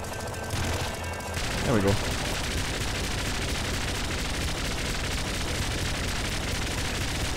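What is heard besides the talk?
gunfire from shooting in the video game Nuclear Throne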